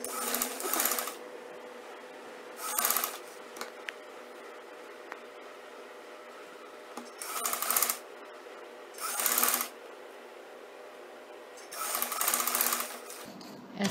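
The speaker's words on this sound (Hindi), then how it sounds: "पहले मैं ये डिज़ाइन जो हम बना रहे हैं इसका इस तरह फोल्ड करके सिलाई लगा लेती हूँ मशीन से।" A sewing machine stitches folded fabric for a Chinese collar in five short, even bursts of whirring, separated by quiet pauses, with no talking.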